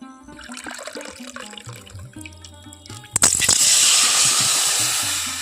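Water from a cup is poured into a cooking pot in a home kitchen, a short burst of splashing that follows quiet clinks and handling sounds, then settles into a steady, fading rush of liquid.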